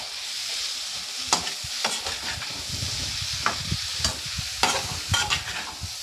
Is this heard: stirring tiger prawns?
yes